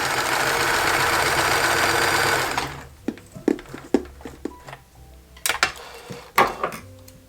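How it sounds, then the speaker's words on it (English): A home sewing machine stitching a straight line on test fabric, a steady mechanical whir for about three seconds, then stopping, followed by a series of scattered clicks and handling knocks nearby. "I have some test fabric here, so I'm just going to sew in a straight line."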